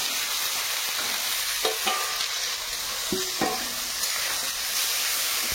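Fried potatoes stirred into a spice mix in an oily pan, with a continuous sizzle broken by a few distinct clanks and scrapes of the spoon against the pan, close by and with no voices.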